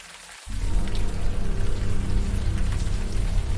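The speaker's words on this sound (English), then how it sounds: "Now that it's out in the open air and the warm rain is coming down" Warm rain in the Unavowed adventure game pours down, a loud, steady hiss of drops on the surface that cuts in after a brief quieter moment and holds evenly, with no talk.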